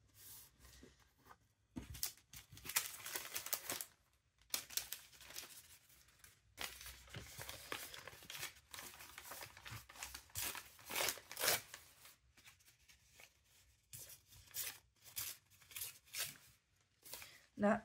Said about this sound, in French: Je vais déchirer mon papier d'une autre manière.